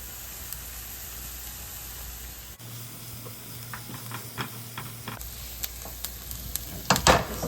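Food fries in a pan on medium-high heat, giving a steady close sizzle broken by soft clicks and scrapes of stirring, with a briefly quieter stretch midway before the crackle picks up again.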